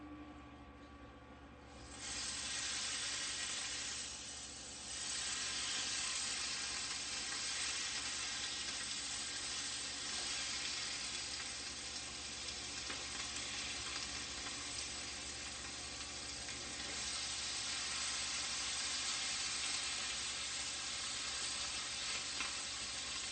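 Cornish game hens sizzle skin side down on a Power XL Smokeless Grill, a dense, even frying hiss that starts abruptly and holds loud and steady throughout with slight swells.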